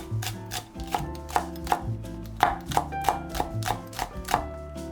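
A knife taps rapidly against a cutting board in quick, even strokes, thinly slicing chili pepper; close and crisp, with no talking.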